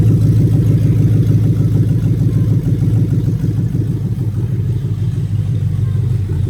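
Toyota 1UZ-FE VVT-i V8 from a Lexus GS idling close by, a steady, even low rumble with a light mechanical clatter, running alone without talk.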